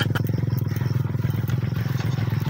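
A motorcycle engine idles close by with a rapid, steady chugging pulse, loud and unbroken throughout.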